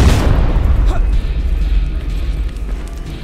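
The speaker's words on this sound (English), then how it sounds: "So I'm gonna throw you a grenade." A grenade explodes in Terminator Resistance as a loud, deep boom right at the start, then a rumbling, crackling wash of noise trails off slowly.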